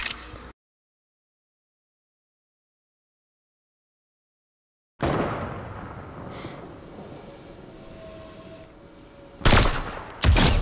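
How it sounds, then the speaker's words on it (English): Sharp, loud gunfire bursts from a sniper rifle in the video game Fortnite, two close cracks near the end after a silent gap, over a busy background of in-game noise. "I'm gonna try to get a good sniper shot"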